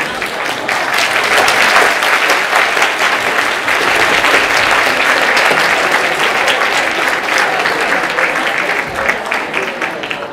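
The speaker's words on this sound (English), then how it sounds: "Another round of applause for your final years." Loud, dense applause from a white coat ceremony audience at a veterinary college honours the final-year students, sustained and roomy with many hands clapping at once for about ten seconds.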